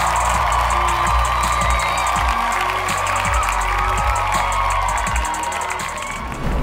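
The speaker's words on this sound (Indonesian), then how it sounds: "Oke, tepuk tangan untuk Spinksy." Loud studio audience cheering, whooping and clapping on a televised dance competition show, a continuous crowd roar with music playing underneath.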